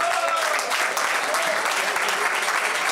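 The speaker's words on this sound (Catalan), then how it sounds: "Un fort aplaudiment, per favor" Loud, dense applause from the crowd at the final of the Cotos del Mig Any Fester in Alcoi, a steady sustained clapping with no talk over it.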